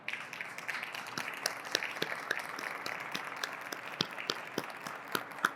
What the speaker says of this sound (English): Let's give one last round of applause to celebrate all our winners tonight